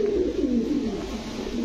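Pigeons such as highflyer and racing breeds in a loft give a low, soft, close coo, one drawn-out throaty call.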